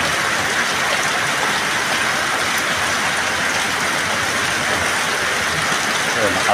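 Heavy rain pours down in a dense, steady roar that stays loud and unbroken from start to end.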